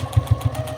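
A home sewing machine stitches back and forth over a dart on a fabric puppet piece, a quick run of rhythmic mechanical thumps lasting under a second, close and clear.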